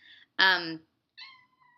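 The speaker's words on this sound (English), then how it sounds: "There's a cat." A cat meowing nearby: one loud, drawn-out meow followed by a shorter, fainter meow, with quiet gaps between.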